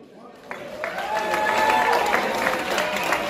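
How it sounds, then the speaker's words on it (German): A crowd applauds a show dance group, the clapping swelling from a quieter start into steady, full applause that carries through to the end. "dir und der gesamten Showtanzgruppe Reunion gebührt ein riesiger Applaus"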